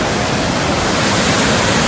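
Loud, steady roar of rushing water at Hogenakkal Falls, a dense broadband wash with no breaks and no voices.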